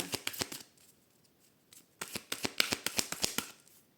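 A tarot deck being cut and handled, with a burst of quick papery card flicks, a short quiet pause, then a longer run of crisp riffling snaps, close and fairly soft.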